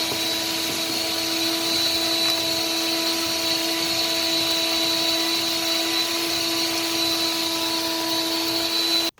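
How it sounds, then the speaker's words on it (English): A vacuum cleaner runs continuously at close range, a steady whining motor drone with no pauses. "I'll vacuum first"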